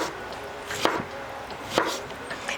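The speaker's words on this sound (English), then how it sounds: "So we're gonna slice our peach perfectly ripe." A knife slicing through a perfectly ripe summer peach, two crisp cuts about a second apart, close and moderately loud over a soft background hiss, no talking.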